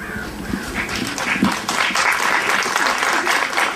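Wedding guests applaud at a reception, a dense, lively round of clapping from a nearby crowd that stays full throughout, with scattered voices mixed in.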